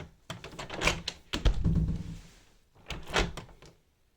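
A uPVC door being locked and pulled tight against its frame, the roller cams engaging and the gasket compressing: a series of clunks, rattles and scraping thuds in bursts, close and fairly loud, with no voices.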